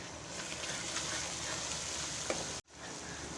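Ginger frying in a pan for haleem: a faint, steady sizzle and crackle runs throughout, briefly cut off near the end before resuming, with no one speaking.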